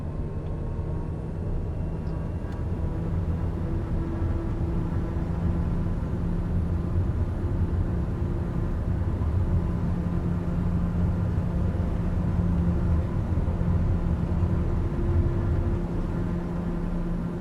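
An airplane takes off in Microsoft Flight Simulator 2020, a steady engine drone with a low hum holding at the same level throughout.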